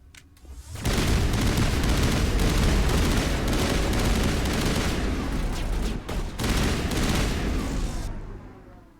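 Sustained heavy gunfire from a firefight against Geth in the video game Mass Effect, a dense loud barrage of shots and booms running almost continuously with a brief dip before resuming.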